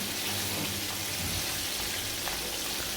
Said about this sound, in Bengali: আর মাছগুলো যখন একদিক ভাজা হয়ে যাবে তখন আমি অপর সাইডকে হালকা করে ভেজে নেওয়ার জন্য উল্টে দিচ্ছি।